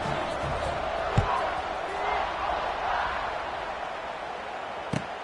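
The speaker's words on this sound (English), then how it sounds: "this crowd is buzzing after that last score" Stadium crowd noise in the College Football 26 video game, a steady loud roar of a buzzing crowd after a score, with a couple of sharp thuds breaking through.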